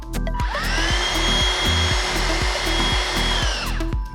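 A Gtech Multi MK2 handheld vacuum runs with its brush bar spinning, making a steady close-up motor whir with a rising high whine that holds throughout.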